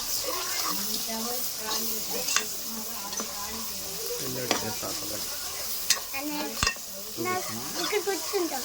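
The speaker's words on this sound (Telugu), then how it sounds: "అల్లం వెల్లుల్లి రెస్ట్ కూడా బాగా వేయించుకోవాలండి" Ginger garlic paste sizzles in hot oil in a pan for a chicken biryani, with a spoon scraping and stirring in irregular strokes, close and continuous, and someone talking over it.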